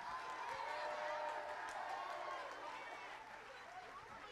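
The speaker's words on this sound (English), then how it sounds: "Can we give them one more round of applause," Audience at an intermediate school fall choir concert applauding the sixth grade choir, a sustained crowd of clapping that slowly fades over a few seconds.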